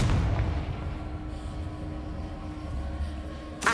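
A Confringo spell explodes in Hogwarts Legacy as a booming, rumbling blast with a sustained low roar, ending in a sharp burst.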